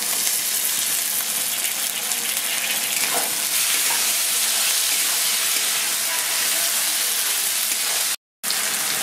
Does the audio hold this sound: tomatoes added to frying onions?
yes